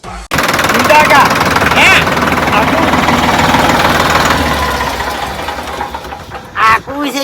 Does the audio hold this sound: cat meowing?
no